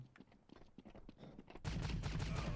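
Gunfire in Counter-Strike: a string of quiet, sharp shots with keyboard clicks and footsteps, then a sudden louder burst of rapid sustained firing to the end.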